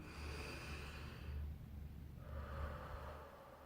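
A long, slow exhale through the mouth, part of a calm breathing exercise, comes as a soft, steady airy rush that eases off and then returns, close and alone with no talking.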